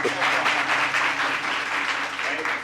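A workshop audience on research and academic writing in Indian languages claps in a dense, steady wash that lasts throughout, with a voice faintly present underneath.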